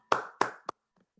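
Three sharp, close hand claps ring out in quick succession for a guest at the end of an online student talk, the first two spaced evenly and the last one shorter, then near silence.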